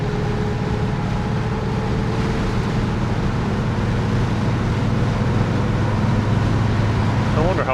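Steady engine drone and road roar from inside a 1985 Chevy C20 crew cab squarebody pickup cruising at highway speed, a constant low rumble with a faint whine throughout.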